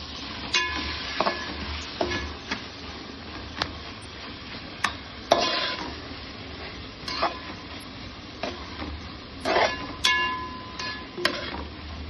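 Tomatoes fry in hot oil in a pan with a steady sizzle, while a spoon stirs and scrapes them in irregular bursts. The stirring is close and moderately loud, and no one speaks.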